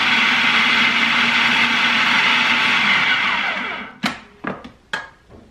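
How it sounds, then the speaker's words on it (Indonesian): A food processor chops freshly harvested chili peppers without water, a loud steady motor whir for about four seconds, then winding down into several short separate pulses. "Ini aku blender dulu ya sebentar."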